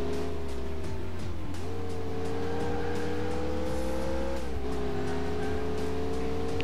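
A car engine in the video game Alarm für Cobra 11 Highway Nights revs hard and accelerates, climbing in pitch through two gear shifts with brief dips in between. The engine is loud and continuous, with no speech.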